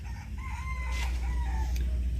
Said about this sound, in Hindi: 5 बज गए तो प्रॉपर मुर्गा भी भाग दे रहा है।